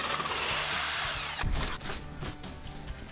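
Power drill boring a hole through drywall with a pilot bit, the bit guided by a cut patch with a matching hole held over the opening; steady close whine for about 1.5 seconds, then rougher grinding bursts as the bit chews through.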